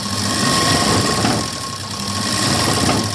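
A sewing machine runs a steady stitch along the very edge of the fabric while sewing a puff sleeve, a continuous close, loud mechanical whir with a slight dip in the middle and no talk.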